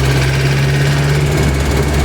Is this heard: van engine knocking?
yes